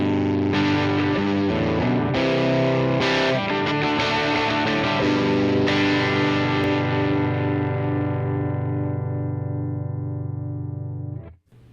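Electric guitar through a Fender Tone Master Pro blending UK30 and British amp models with gain staging, playing loud, continuous distorted chords and sustained notes with chorus-like shimmer, ringing out alone before cutting off at the end.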